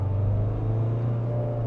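Diesel engine of a Mahindra Thar ROXX accelerating in second gear, a steady loud low rumble with a strong droning tone heard from inside the cabin.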